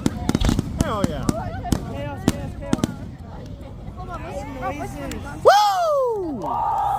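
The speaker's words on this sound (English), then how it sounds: "Now that is a fireworks show." A 4th of July fireworks show at an Army post, with sharp bursts and crackles in a rapid irregular string, then whistling and rising shrieks, while a crowd cheers and yells throughout.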